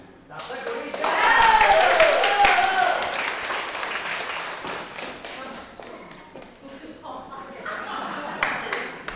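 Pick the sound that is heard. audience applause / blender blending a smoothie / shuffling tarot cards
audience applause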